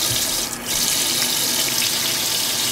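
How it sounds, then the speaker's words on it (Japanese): Running tap water splashing into a sink while a sensitive-skin facial cleanser is lathered into foam by hand, a steady close wash of water with no talking. "そしたらちょっと泡を立ててみます。"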